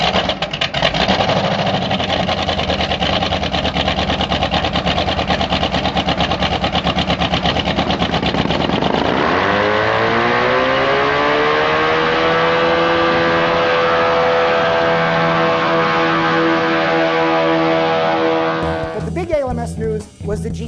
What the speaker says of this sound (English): Brought the 2J that made ground effects with a lawnmower motor vacuuming the air out from under the car